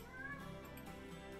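A single short cat meow from The Sims 4, faint and brief against a quiet game background, with no talking over it.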